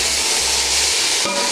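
Tomatoes go into hot oil for a beef pulao with cardamom and cinnamon, a loud, dense, continuous hiss that surges briefly partway through, close up with no talking.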